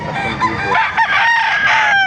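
Chickens cluck and a rooster crows close by at a market in Baliuag, several birds calling over one another in a busy, noisy chorus.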